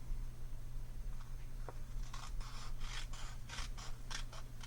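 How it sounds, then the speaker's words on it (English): Scissors snipping through paper for a scrapbook page layout, cutting from a corner toward the center, in a series of close, crisp cuts with short pauses between them. "And then you cut from this corner"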